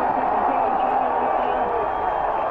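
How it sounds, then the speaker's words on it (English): A football stadium crowd roars after a sack, a broad sustained wash of cheering that stays loud and even for a couple of seconds with no distinct claps standing out. "Listen to the crowd."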